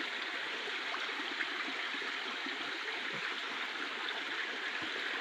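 Steady stream water flowing continuously, a dense even rush with no breaks, moderately close and alone without voices, beside a farm home.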